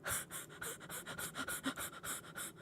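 A voice imitates a snake laughing with a string of quick, rhythmic breathy hisses and pants, close and fairly quiet, about a dozen bursts in a row.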